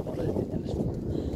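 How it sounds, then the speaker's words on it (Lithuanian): Strong wind of about 20 m/s blowing outdoors during a trampoline assembly, a loud, continuous low rumble that buffets the microphone with unsteady gusts. "Vėjas."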